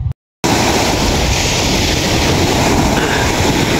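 Sea waves washing onto a Philippine shore while people wait for low tide to gather shellfish. After a brief cut, the surf makes a steady, loud, close rushing roar with no pauses.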